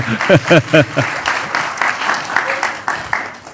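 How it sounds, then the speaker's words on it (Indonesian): Audience at a public talk breaks into applause, a broad wash of many hands clapping that rises under an excited voice at the start and carries on by itself. "Kita berikan tepuk tangan dulu."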